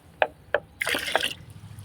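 Vermiwash liquid poured into about ten litres of water for feeding plants, heard as two small drips followed by a short, close burst of splashing and trickling that fades away.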